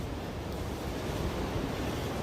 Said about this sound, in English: See, I can hear water rushing.